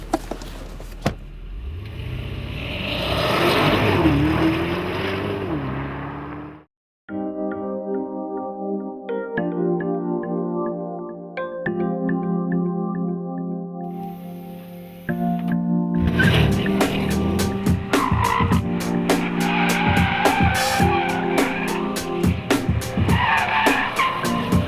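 A Porsche Panamera sedan drives hard and drifts, its tires squealing and its engine roaring loudly in the opening seconds and again at the end, with a steadier tonal stretch in between.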